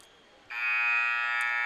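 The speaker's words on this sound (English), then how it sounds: "That buzzer means it's time for the second half." A basketball game buzzer ending the half at a high school girls' game, one long loud electronic tone that starts abruptly and holds steady, heard alone.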